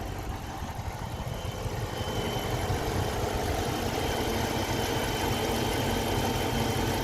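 A Dodge Charger R/T engine idles steadily, a low rumbling drone with faint knocking vibration, close and continuous with no voices.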